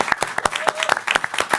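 A small audience at the close of a talk event gives a short burst of applause: a quick, loose rhythm of distinct individual claps, fairly close and lasting under two seconds.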